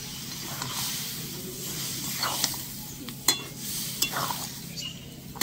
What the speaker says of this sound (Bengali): খুব ভালো করে আমি নাড়া দিয়ে নেব কুলটাকে